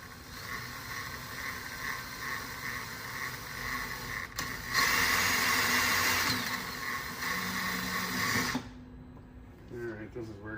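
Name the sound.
drilling with table as drill stop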